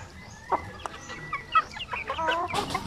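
Basilan native chickens cluck in a breeding pen, several birds giving short, overlapping clucks and calls at close to moderate distance, with no talking.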